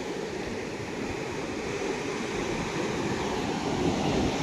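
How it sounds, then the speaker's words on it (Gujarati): Sea waves at Dwarka beach make a continuous broad roar of surf that swells slightly toward the end, with some wind in the background. No voices are heard. "જુઓ દરિયો બહુ મસ્ત છે"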